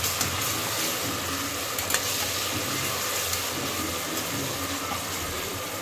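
Ginger garlic paste frying in a pan for spiced rice pulao, giving a steady, dense sizzle that stays even throughout with no talk.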